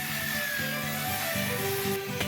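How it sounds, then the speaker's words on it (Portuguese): A power drill fitted with sander parts sands a wooden phone stand, giving a steady, loud whining hum with shifting tones that runs the whole time, close up and without speech. "nós estamos lixando com uma furadeira"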